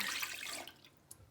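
Cashew milk poured into a cup, a brief soft liquid splash that trails off quickly, heard alone and fairly faint.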